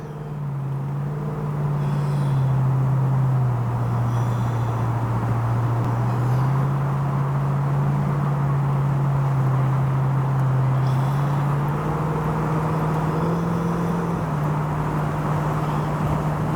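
A 1965 Ford Mustang convertible climbs the ramp onto the I-5 freeway northbound, its engine a steady loud low drone with slight pitch shifts as it accelerates, plus wind and road rumble throughout, with no talking.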